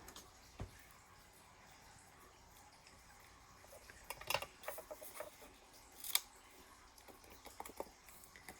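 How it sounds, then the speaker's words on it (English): Scattered quiet scissor snips and small clicks, irregular and close, with a few sharper cuts near the end in a fairly quiet room. "now I'm going to take my scissors."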